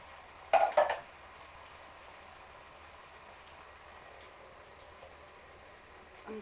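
Peppers and tomatoes tipped into a frying pan for chilli con carne land with a brief clattering hiss near the start, then a low, steady sizzle runs on quietly to the end.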